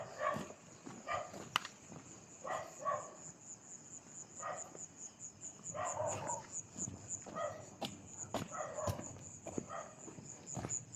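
Dogs bark near a house at night, repeated bursts of barking at moderate distance under a steady high insect chirring.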